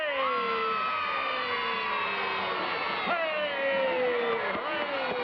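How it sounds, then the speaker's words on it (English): Children cheer loudly for Howdy Doody in a 1952 studio, a sustained chorus of high excited voices and whoops shouting together, swelling in a couple of bursts. "All the Howdy Doody supporters, cheer and raise your right arm."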